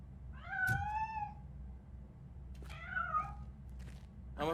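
A cat in the video game RoboCop Rogue City gives two clear, drawn-out meows a couple of seconds apart over a soft, low background hum.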